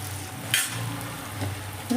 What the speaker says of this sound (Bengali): এইভাবে আমি সমস্ত পকোড়াগুলো ভেজে নেব